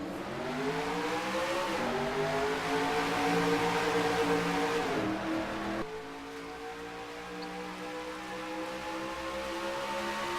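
Race cars in a racing video game at Darlington take the green flag, with a steady layered engine drone that climbs in pitch, then a sharp gear change partway through before the engines build again.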